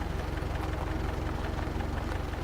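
A steady, low mechanical engine rumble of a truck arriving in a farming video game drones on without a break, like a vehicle motor running close by, with nobody talking.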